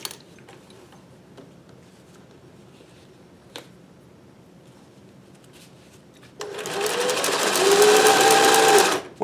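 A Singer 411G sewing machine with a roller foot chain stitches rubber-backed fabric, starting abruptly after a few faint clicks and running in a steady, loud whirring burst before stopping.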